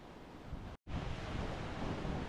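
Sea waves rolling onto the coast near Kanyakumari, a steady broadband roar with wind buffeting the microphone, continuous and fairly loud apart from one brief dropout.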